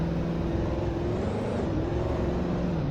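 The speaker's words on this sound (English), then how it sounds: "Putting it in drive, and it's slowly going" A steady, close engine hum and whir from an old, beat-up Greenville GV4 car, just started and now creeping along slowly in drive, holding a constant drone throughout with no talking.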